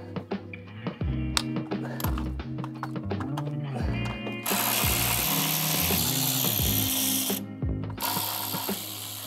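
A wrench works the intake bolts on a 2000 BMW E38 740i engine, giving rapid ratcheting clicks and metallic clacks in bursts close by, with a longer stretch of continuous ratcheting partway through.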